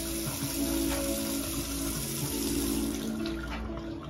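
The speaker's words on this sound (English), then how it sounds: "turn the water on and see if anything leaks" A newly installed bathroom sink faucet runs at full flow, a loud, steady, close rush of water pouring into the basin throughout with no talking.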